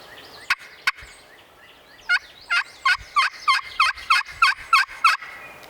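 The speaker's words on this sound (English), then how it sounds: "He just gobbled again." Wild turkey gobbling in open country, with a couple of sharp calls at the start and then a quick run of about ten rhythmic gobble notes, fairly clear though some distance off.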